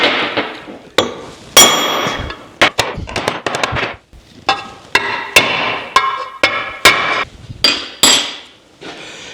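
A length of pipe used as an installing tool taps a seal into an International Scout engine, producing a run of sharp metallic knocks, some in quick bursts and others spaced out, close and fairly loud.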